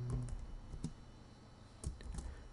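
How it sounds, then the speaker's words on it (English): Quiet keyboard typing as a title is entered on a computer: scattered soft key clicks in small bursts, fairly faint, with no voices. "just sort of type what you want it to say."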